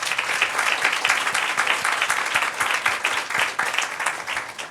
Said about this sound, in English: please give them a round of applause as well